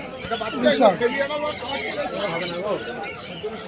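Pigeons at a village bird market squawk and coo close by in short, irregular calls, with people talking over them and market bustle in the background.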